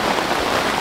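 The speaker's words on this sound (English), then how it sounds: "It's raining, it's really coming down hard." Heavy rain pours down steadily at a riverside campsite on the Vaal River, a dense, continuous hiss of drops drumming on surfaces close by, with no voices over it.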